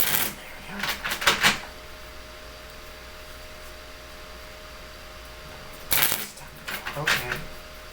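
Two separate bursts of tarot cards being shuffled close by, each a quick riffling flutter, with a quiet pause between them.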